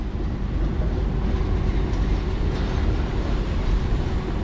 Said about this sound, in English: Your train come over the river when you're fishing.